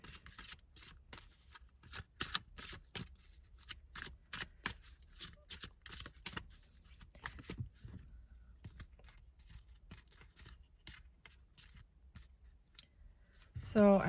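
Tarot cards handled close up, with a long run of quick crisp clicks and flicks as they are shuffled and sorted, with a soft voice at times between them.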